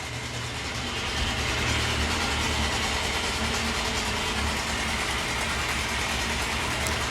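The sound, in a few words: 1998 Yamaha YZF600R Thundercat motorcycle engine running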